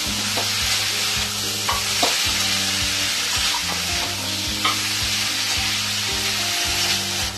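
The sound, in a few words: stirring boiled banana flower and potato in spice paste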